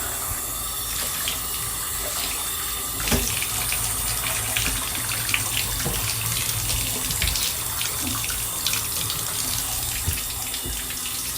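Water runs steadily from a bathtub faucet while something is rinsed off in the tub, a continuous close hiss and splash with small shifts in flow and no talking.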